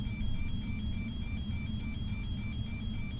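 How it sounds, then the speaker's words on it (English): An aircraft battery discharge alarm sounds as a steady string of short, evenly spaced high-pitched beeps, about three per second, over a constant low engine or cockpit rumble, with no talk. "Is the battery discharge alarm?"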